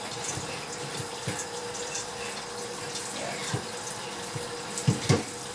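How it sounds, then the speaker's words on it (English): Brussels sprouts rinsed under a running kitchen tap, a continuous moderate stream of water with occasional splashes and knocks as the sprouts are handled. "Make sure they're nice and rinsed off"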